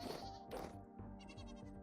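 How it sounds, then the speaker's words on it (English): A goat bleating in the survival video game Vintage Story, a couple of short wavering bleats over a quiet in-game background with no talk, fairly faint. "Yes, I do see a baby goat."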